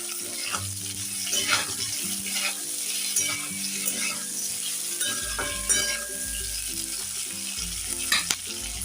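Chopped tomatoes, green chillies and ginger fry in a pan with a steady hiss and crackle, broken by scraping stirs and light clinks, close and continuous, for a restaurant-style matar paneer gravy.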